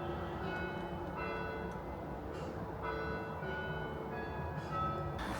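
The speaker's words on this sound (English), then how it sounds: "the bells, for whom the bell tolls." Church bells toll faintly in the distance, their ringing tones recurring at intervals over a steady outdoor background hum.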